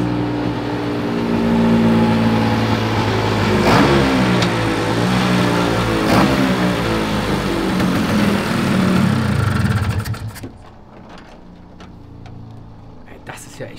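A Vespa PX125 scooter engine fitted with a Malossi 210 Sport kit revs loudly and steadily for about ten seconds, pitch rising and falling, then drops away to a quieter idle, with people talking over it.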